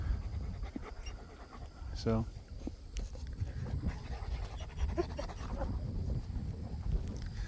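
A dog panting after trying to play with sheep on a farm, a steady breathy huffing close by under outdoor noise, with a person speaking briefly.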